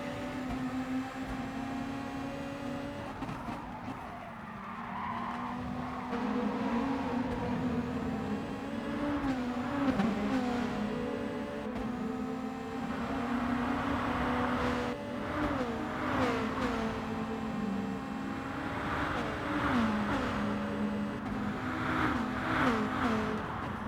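Race cars in Gran Turismo Sport roaring around the track in a pack, engines droning and shifting pitch with repeated upshifts and revs, a continuous layered motor whine with no talk.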